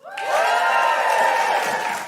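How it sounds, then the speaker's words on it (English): A live comedy show audience breaks into a sudden burst of cheering and whoops, which stays loud and steady for about two seconds before tapering slightly. "Give us a cheer if it's the first time you've seen it."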